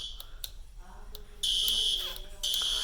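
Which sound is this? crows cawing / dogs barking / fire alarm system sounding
fire alarm system sounding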